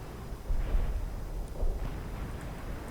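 Artillery from the game Company of Heroes pounds a Wehrmacht base as muffled, low booming impacts that roll and rumble, with two heavier swells of blast noise.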